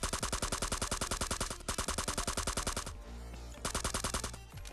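Rapid automatic gunfire in the video game Scarfall, loud, close and sharply rhythmic in two long bursts separated by a brief lull with scattered shots.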